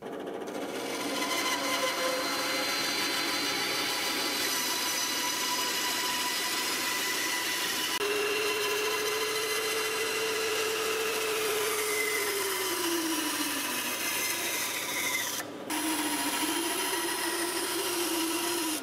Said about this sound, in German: Wir nehmen jetzt hier dieses Stück, sägen es komplett durch